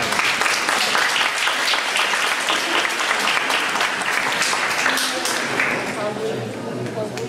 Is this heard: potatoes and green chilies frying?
no